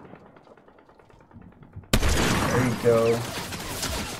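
Gunfire in a video game: after a quiet stretch, a sudden loud blast opens a dense burst of shots and rumbling explosions, with a voice talking briefly over the noise.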